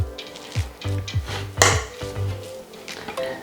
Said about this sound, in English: Now we're going to fluff all the rice up with a fork.